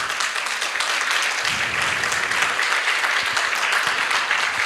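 Loud, dense applause from a church congregation during a sermon, a continuous roar of clapping that fills the whole stretch without a break.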